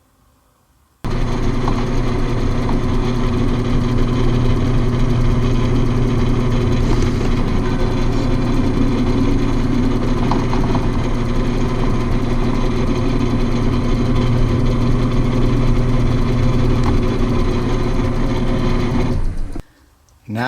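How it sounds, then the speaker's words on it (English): Power drill boring a quarter-inch hole through ABS plastic for a spoon rest, a loud continuous motor whine that holds steady for nearly twenty seconds and then stops abruptly. "I'm going to drill a 1/4 inch hole on our center line"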